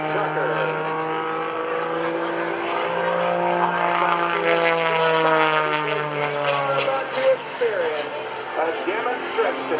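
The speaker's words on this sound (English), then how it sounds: "custom-built biplane, which we call the Oracle Challenger 3" A custom-built aerobatic biplane, the Oracle Challenger 3, flying at an airshow with a loud, sustained propeller-engine drone whose pitch slowly shifts as it passes, with steady crowd ambience underneath.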